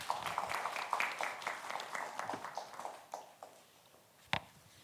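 An audience at a university admissions information session applauds a presenter, a brisk patter of many hands that thins out and fades over a few seconds, ending with a couple of isolated claps.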